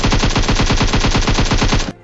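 Rapid automatic gunfire in the PUBG battle royale game sounds as one loud, close burst of about two dozen evenly spaced shots, cutting off abruptly at the end.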